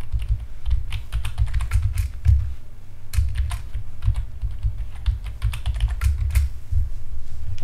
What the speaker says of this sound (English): you will be providing username and password